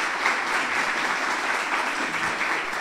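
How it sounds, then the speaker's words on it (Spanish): Steady audience applause at a literary festival honoring a guest author, dense even clapping from a crowd sustained throughout at moderate loudness. "un gran aplauso para Carolina Sanín, nuestra invitada del día de hoy"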